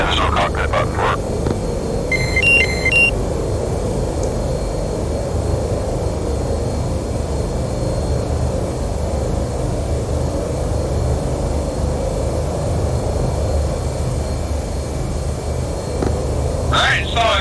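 An F/A-18 jet taking off in the DCS flight simulator, a steady broad engine roar held loud for the whole stretch, with short electronic beeps near the start and end.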